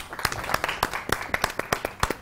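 A studio audience on a Ramzan iftar television show claps to welcome Asma Abbas, with distinct, rhythmic claps about three per second, fairly close and moderately loud.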